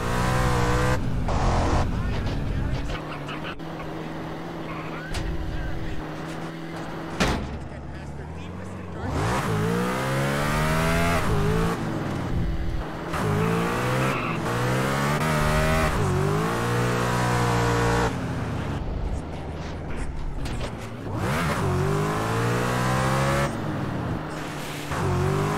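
A car in GTA San Andreas is driven hard, its engine revving and rising through gears with tire squeal, loud and continuous for the whole stretch under game dialogue and music.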